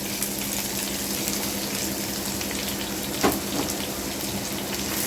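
Three big chopped onions go into hot oil in a pan for kara adai, producing a loud, steady broadband sizzle that runs throughout, with a brief stirring scrape near the middle.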